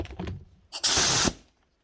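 A McGraw air hydraulic rivet gun, still new from the box, lets out a loud, sharp burst of air hiss lasting about half a second after a brief click, then falls silent.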